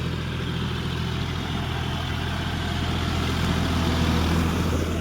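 A John Deere 5050D 4WD GearPro tractor idles near a muddy paddy field being puddled. The engine gives a steady, continuous low rumble that stays close and even, with a slight swell near the end and no talk.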